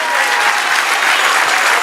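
A congregation at a church service claps in a loud, continuous burst of applause, thick and even for the short span.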